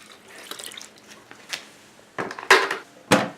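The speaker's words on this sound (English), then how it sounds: "I'm going to go ahead and fill it up the rest of the way with water" Water runs into a washing machine in a Roadtrek camper van, heard as splashing, gushing bursts that grow louder toward the end, with quieter drips and knocks between them.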